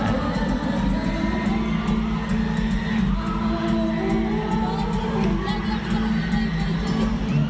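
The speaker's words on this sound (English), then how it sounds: "Ayaw tumigil ng crowd, man." A concert crowd at Araneta Coliseum cheers and shouts in a dense, continuous roar with high whoops, loud and unbroken throughout.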